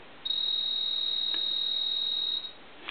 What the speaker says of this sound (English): Now I'm ringing the phone, and you can probably hear the piezo buzzer a little bit